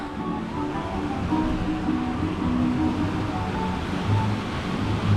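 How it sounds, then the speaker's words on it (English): Big waves of rushing water churn beside a roller coaster queue at the Parc Asterix theme park. A steady, loud broadband roar continues throughout with no talk. "Some pretty big waves."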